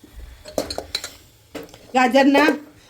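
Carrot halwa is stirred in a pot over a low gas flame, the spoon clinking and scraping against the metal in a few close, sharp bursts, with a person talking in between.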